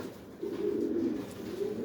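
Soft, low pigeon cooing repeats in a steady, throaty rhythm, fairly close, with no talking.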